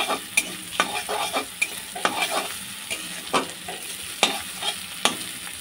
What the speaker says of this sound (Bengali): আমি এখন এই যে কিমা করা চিকেনটাও আমি দিয়ে দিলাম এর মধ্যে, দিয়ে ভালোভাবে একটু ভেজে নেব।